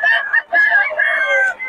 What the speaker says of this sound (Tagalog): ito mga manok ni Boss Mac